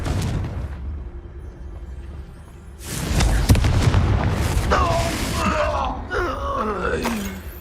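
Confringo spell explosion in the Hogwarts Legacy game: a heavy booming blast bursts in suddenly after a quieter stretch, followed by rumbling debris and yelling, groaning voices.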